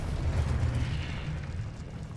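A Confringo explosive spell detonates in the Hogwarts Legacy video game, a short, fairly quiet rumbling blast that fades out over about two seconds.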